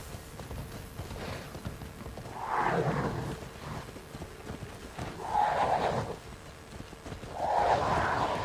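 Horses in the video game Immortals Fenyx Rising, with three swelling snorting and whinnying calls spaced a few seconds apart over a steady low background, fairly close, with no talking.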